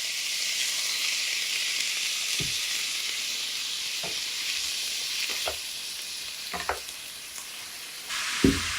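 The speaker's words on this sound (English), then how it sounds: "So while frying this, you can add a bit of water." Celery frying in a pan for a herbal cooking dish, giving a steady, even sizzle throughout with a few brief clicks and stirring scrapes near the end.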